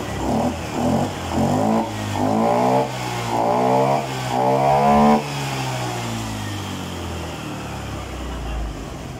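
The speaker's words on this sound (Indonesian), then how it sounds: "motornya udah nyala ini" A Honda Spacy FI scooter with a stuck O2 sensor runs close by, its engine revving up and down in rising and falling sweeps before settling to a steady idle.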